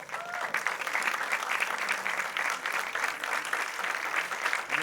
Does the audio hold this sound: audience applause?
yes